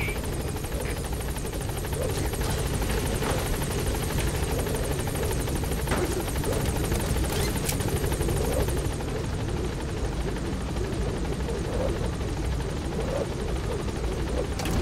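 A helicopter in the video game Metal Gear Solid V arrives at a landing zone, its rotor making a loud, steady, continuous drone that stays close and constant throughout with no pauses.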